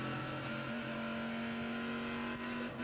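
A racing car engine in a racing sim video game played with hydraulic pedals, droning steadily at high revs and stepping down in pitch as it downshifts, loud and continuous with no talk.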